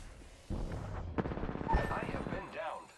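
Gunfire in a crossfire during an Apex Legends match, rapid game shots and impacts layered under louder talk from players.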